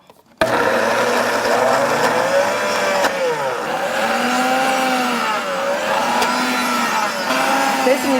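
A kitchen blender grinds basil pesto with garlic, pepper and salt, a loud continuous motorized whir with rising and falling pitch that runs steadily for about eight seconds after a brief quiet start.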